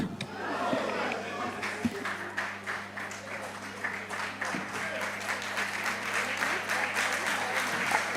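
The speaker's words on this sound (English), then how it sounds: "please clap for him" Audience applause at a national investment quiz competition quarter-final, steady dense clapping that runs the full length, loud and continuous with some voices mixed in.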